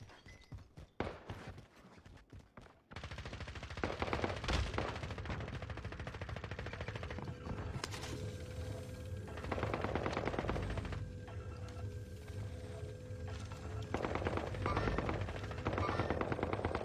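Sustained gunfire in the video game Warzone, with dense machine-gun bursts running almost continuously after a quieter opening, loud and close, with no talk over it.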